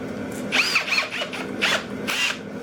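Ridgid brushless hammer drill boring into a wet log, heard close up as about four short, squealing, grinding bursts over a steady low hum.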